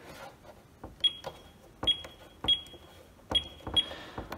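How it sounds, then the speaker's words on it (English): A faulty treadmill's keypad: button presses click, and several are followed by short high-pitched electronic beeps, irregularly spaced, close and fairly clear against a quiet background. "it makes a beep when you press a key"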